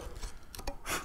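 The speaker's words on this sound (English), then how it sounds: "we can pop the chisel in there and use that material as leverage to remove all of this rubbish from inside the mortise" A steel chisel chops into and levers waste out of a hand-cut wooden mortise, giving quiet, irregular knocks and scraping taps with soft rubbing between them.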